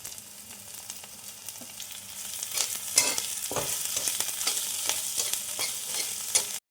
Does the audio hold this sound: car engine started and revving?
no